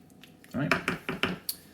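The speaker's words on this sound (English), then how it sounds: "So lid's going to go on now." A slow cooker lid goes on with a quick series of five or six light clinks and clatters of glass and metal, close by and fairly quiet.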